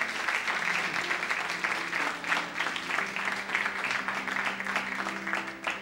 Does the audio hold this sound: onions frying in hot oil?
no